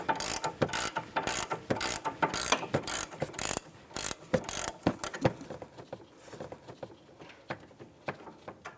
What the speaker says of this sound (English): I'm going to use a wrench.